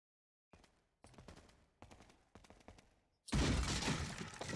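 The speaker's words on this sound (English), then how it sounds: "I could shoot the tires out, maybe?" In a video game, bursts of gunfire shoot at a vehicle's tires, four separate clusters of sharp shots followed by a louder, sustained crackling burst, with no talking.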